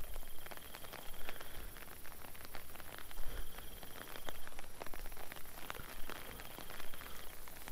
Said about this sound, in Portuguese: Oh, meu Deus, essa chuva!